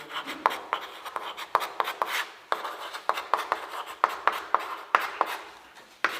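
Chalk or a pen scratches out writing on a board or paper during a maths lesson, a series of short rhythmic strokes and taps, close and moderately loud, with brief pauses between words.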